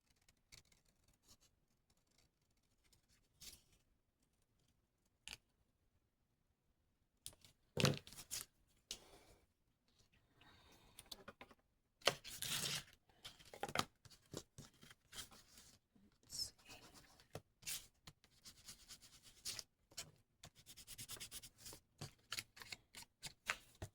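Scissors cutting out paper party favors, close irregular snips and crinkling paper in uneven bursts after a quiet opening.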